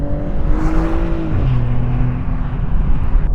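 An Aston Martin GT car engine gives a steady, raspy, close-up drone that shifts pitch about midway through, as if changing gear while driving, with no talking.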